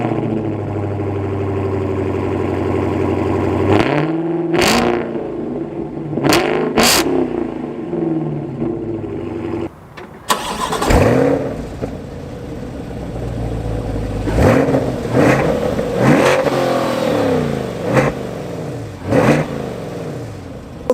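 Dodge Hellcat and C8 Corvette engines revving in turn, loud and close, with idling between sharp repeated throttle blips, a long rising roar mid-way and several more quick revs afterward, no talking.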